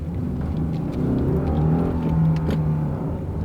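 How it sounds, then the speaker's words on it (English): A Subaru boxer engine pulls away from a stop, a steady low rumbling drone that climbs slightly in pitch as the car accelerates, heard from inside the cabin. "You can hear that boxer engine."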